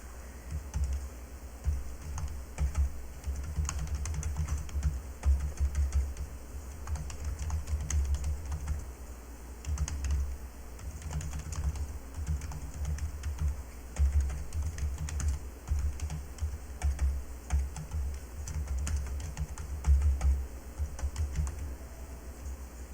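Computer keyboard keys are tapped in irregular bursts of soft clicks at close range, with short pauses between groups of presses and no voices.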